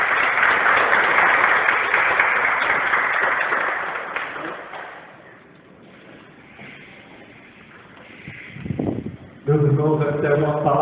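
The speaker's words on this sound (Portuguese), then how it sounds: "Aplaudamos o Santo Evangelho de Deus." A church congregation applauds the Gospel with a dense, sustained burst of clapping that fades away, followed by a voice beginning to speak.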